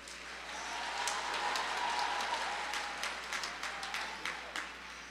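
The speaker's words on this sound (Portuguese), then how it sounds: "Se você vai aplaudir, aplaude direito." Church congregation applauding at a revival service, a steady wash of many hands clapping at moderate distance, swelling and then thinning into scattered individual claps.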